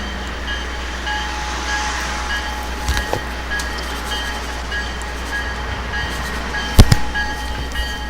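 A Conrail coal train rolls across a trestle in a steady, continuous rumble, with a few brief metallic squeals and clanks rising above the drone.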